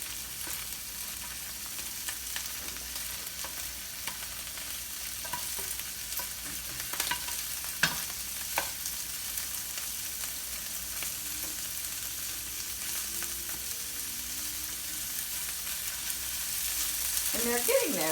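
Shrimp sizzle and fry steadily in a pan for edamame pasta, a constant crackling hiss with occasional stirring and scraping, growing a little louder toward the end.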